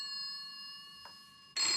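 A telephone rings inside a public phone box with a steady, continuous electronic tone, followed by an abrupt burst of noise at the very end.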